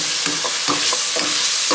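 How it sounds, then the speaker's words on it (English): Seasoning of pepper, onion powder and paprika being stirred in a bowl, with a loud hiss throughout and rhythmic scraping strokes repeating about every half second, no voices. "Go ahead and stir that up."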